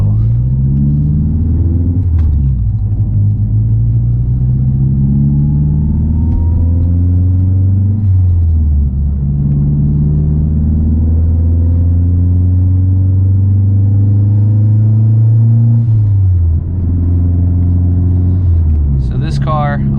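A Mazdaspeed3's 4-cylinder turbo engine drones steadily up close while driving on wet back roads, pitch rising through gears and dropping at each shift, with a brief high whine near the end.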